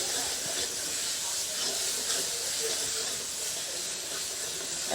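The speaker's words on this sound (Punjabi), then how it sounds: "ਤੇ ਹੁਣ ਆਪਾਂ ਇਹਨੂੰ ਭੁੰਨ ਲਵਾਂਗੇ ਪਿਆਜ਼ ਨੂੰ" Onions fry in oil in a pan, giving a steady close hiss and sizzle that holds at an even level throughout.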